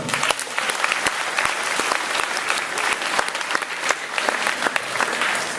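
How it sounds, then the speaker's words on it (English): Applause from a junior high school talent show audience at Putnam County, with dense, steady clapping from a sizable crowd that goes on without a break and carries no speech. "let's give them a nice big round of applause"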